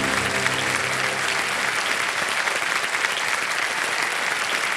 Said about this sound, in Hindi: तालियां बजती रहे जसमीन जी के लिए।